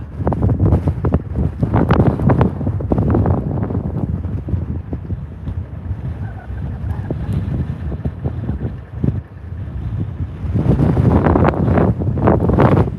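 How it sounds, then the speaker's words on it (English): Strong, steady wind buffets the microphone at a clifftop campsite, a loud continuous roar and rumble that dips briefly near the end and then surges back, with no voices. "There's a lot of wind."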